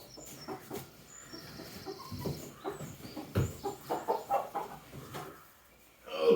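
A rooster being picked up and handled outdoors clucks in a rapid run of short, fairly close calls, with rustling and handling noise around it.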